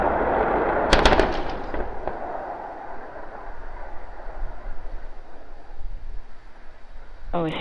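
A SpaceX Starship test vehicle explodes: a sharp, loud blast followed by crackling bursts, then a lingering rumbling roar that slowly fades, with a brief tone near the end.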